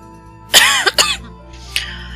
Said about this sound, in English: I wish I can get over this cough soon.